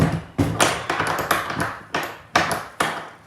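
A solid wooden door in a house being locked, heard as a series of sharp, close metallic taps and clicks from the latch and lock, spaced unevenly over a few seconds.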